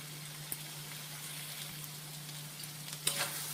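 Boiled banana flower frying in oil and spice paste, a faint, soft crackle and sizzle with a steady low hum beneath and a couple of small clatters near the end.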